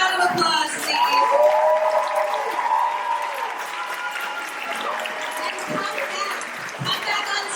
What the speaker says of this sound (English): Let's give them a huge round of applause, please.